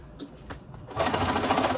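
A sewing machine runs steadily, stitching a zipper seam on a boxed cushion, after a few faint clicks as the fabric is positioned; close and alone.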